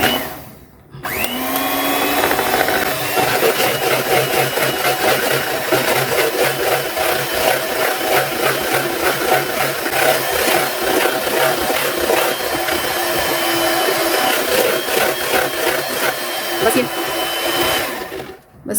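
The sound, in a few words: electric beater whipping cream for ice cream premix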